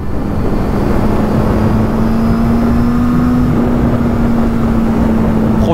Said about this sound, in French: On profite du son du moteur, on enroule.